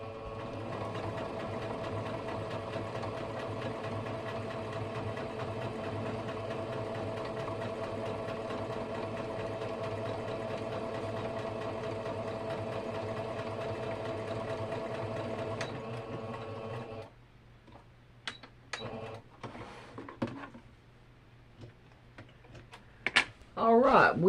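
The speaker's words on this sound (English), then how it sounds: "And we can finish sewing it down." A sewing machine runs steadily and loudly while stitching down a plate mat, a fast continuous mechanical whir that stops partway through, followed by scattered clicks and handling noises.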